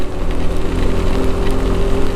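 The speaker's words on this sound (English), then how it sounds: "let's hope we will get out of this rain soon." Rain pours down during a ride through Ecuador, a loud, steady hiss layered over a constant low engine drone with no pauses.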